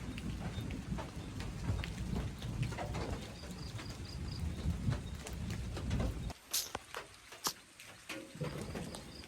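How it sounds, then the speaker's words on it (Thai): Light rain still falling on a rural farm field: a steady soft patter and hiss throughout, with scattered bird calls and a few sharp drips, fairly close and low in level. "เดี๋ยวนี้ก็ยังหยาดอยู่น้อยนึงพี่น้อง"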